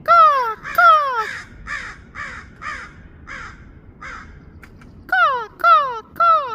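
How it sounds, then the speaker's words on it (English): A crow caws outdoors, loud and close, in a run of harsh calls. A quieter series of caws follows, then three more loud caws close it out. "See him? Caw, caw."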